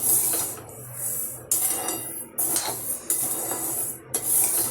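Grain flour is dry roasted in a pan, with steady close scraping and rubbing of a spatula across the metal in repeated strokes over a constant hiss, and no talk.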